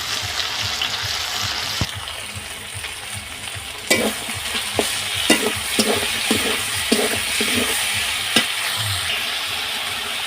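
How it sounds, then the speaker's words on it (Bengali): Ginger-garlic paste sizzles with potatoes in a pan, a steady close frying hiss broken by irregular spoon taps and scrapes as the mixture is stirred. "এবারে আদা রসুন বাটা দিয়ে দেবো।"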